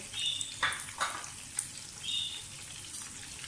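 Raw minced meat kebabs frying in a pan, a steady soft sizzle with a few sharper crackles and spatters scattered through.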